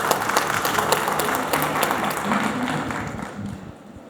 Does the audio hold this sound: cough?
no